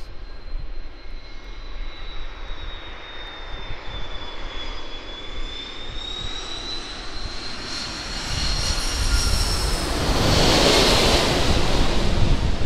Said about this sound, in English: Qantas Airbus A330.